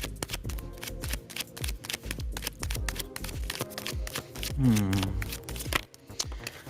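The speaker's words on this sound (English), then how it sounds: "As I'm shuffling the cards, I can see things that are coming up already." A deck of cards is shuffled by hand up close, a long run of rapid riffling clicks and flutters that swells, pauses briefly, and then resumes.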